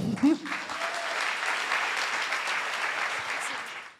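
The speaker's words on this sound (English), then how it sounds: "Give her a lot of applause for Citron." Audience applause breaks out for a woman named Citron coming on stage at a startup pitch event, a dense steady wash of clapping that holds for several seconds after a brief voice at the start, then tapers off.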